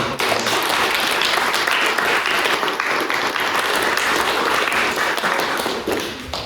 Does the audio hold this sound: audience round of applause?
yes